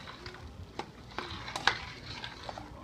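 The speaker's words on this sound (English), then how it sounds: "And finish stirring that all in." A spoon slowly stirs thickening New England clam chowder in a pot, giving soft, quiet scrapes and a few light clinks against a low, steady background.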